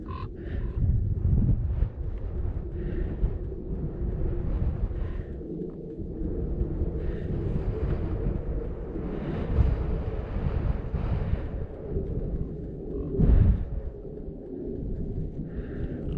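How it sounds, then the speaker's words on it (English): Strong wind buffets a DJI Mini 2 drone's microphone, a steady low rumbling roar with gusty surges that fills the whole stretch, peaking sharply near the end, with no voices. "Okay, really strong wind here."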